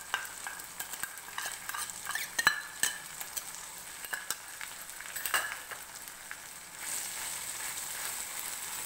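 Pirandai paste, onion and tomato sautéing in a pan for pirandai kuzhambu, with a soft steady sizzle broken by scraping stirs and a few sharp clinks of a spoon against the vessel, the hiss growing slightly louder near the end.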